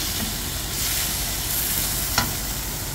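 Beef sizzles steadily in a hot pan while it is lightly fried for bulalo, a dense, continuous crackle with one sharp clink of a utensil near the end.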